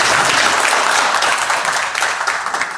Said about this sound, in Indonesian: Tepuk dulu dong.